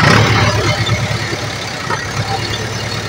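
A JCB machine's diesel engine runs nearby with a loud, steady low rumble and no break in the sound.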